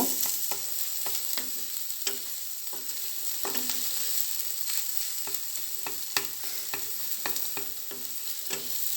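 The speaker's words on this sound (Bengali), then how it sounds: "এখন আমি বাকি সময়টা ডিমের সাথে নাড়াচাড়া করব" Egg is stir-fried in a pan for noodles, with a steady run of sharp spatula scrapes and taps at an irregular rhythm over a soft, continuous sizzle, close up and without talk.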